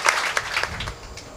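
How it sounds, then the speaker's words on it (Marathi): An audience claps together at a Marathi kirtan gathering, honoring a guest with a steady, moderately loud round of applause that fades slightly over its brief length. "त्यांच्याकरता एकदा टाळी"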